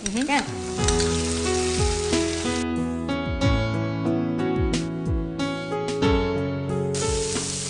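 Tomato and onion fry in a pan with a loud, continuous sizzle, mixed with sustained tonal notes and gliding pitches like background music.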